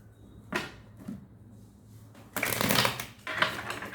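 Tarot cards shuffled by hand in short riffling bursts, a brief flutter early on and two louder, longer bursts near the end, close and fairly quiet with no talk.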